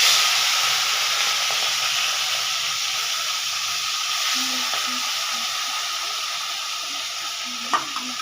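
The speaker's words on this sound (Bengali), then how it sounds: "এবার চিংড়িগুলো ছেড়ে দিলাম।" Prawns go into hot oil already spiced with cumin and green chili, and a loud, steady sizzle and hiss carry on throughout, close up, with a few small pops near the end and no voices.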